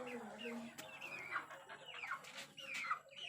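A hen clucks and chatters close by in short, repeated calls, with a faint voice in the background.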